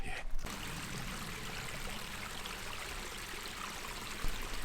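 Stream water flowing beside a hiking trail in Monrovia Canyon Park, a steady broadband rush of running water that stays constant and close throughout, with no talking.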